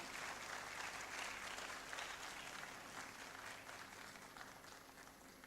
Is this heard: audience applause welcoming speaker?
yes